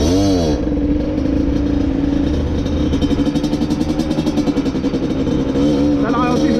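A 50cc motorbike engine idles too high in Annecy, a loud nearby buzzing putter with a steady pulsing rhythm that wavers slightly in pitch, running continuously from start to end.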